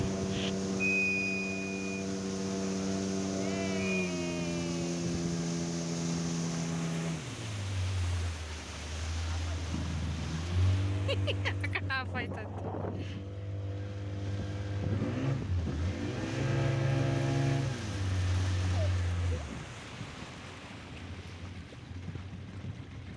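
A motorboat engine on Amani lake in Tumakuru drones steadily and close, its pitch stepping down and then settling into a lower, slightly wavering hum, with a faint whistle near the start.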